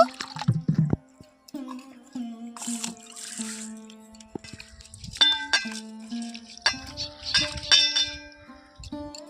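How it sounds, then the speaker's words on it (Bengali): Red lentils (masoor dal) being rinsed in water in a metal vessel, with trickling and dripping, splashes and sharp clanks and dings of the pot, spread in irregular bursts over about nine seconds. "এই ডালটাকে এখন ধুয়ে পরিষ্কার করে নেব"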